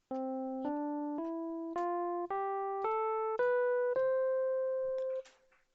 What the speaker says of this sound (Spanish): esta otra escala que es ascendente y sonaría así.